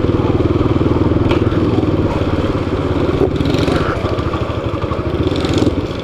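Motorcycle ridden through town streets in the afternoon, its engine running steadily and close up with a continuous rumble, a few clattering thumps along the way.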